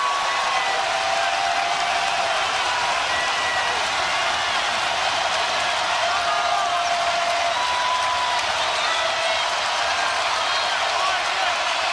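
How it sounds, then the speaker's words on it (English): Arena crowd at an Auburn vs Alabama college basketball game roaring after a reverse slam dunk, a loud, unbroken wall of cheering and applause that holds steady throughout, with commentary faintly underneath. "that's got the crowd fired up"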